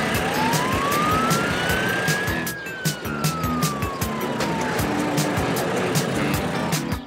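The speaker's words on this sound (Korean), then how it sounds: "긴급 상황이니 사이렌을 울려야죠" A cartoon truck's emergency siren sweeps slowly up and then back down in pitch over steady traffic and street noise, fairly close and loud.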